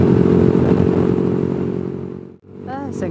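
A Suzuki Satria FU motorcycle on a night city ride gives a loud, steady engine drone that dips briefly before picking up again, with a voice talking near the end.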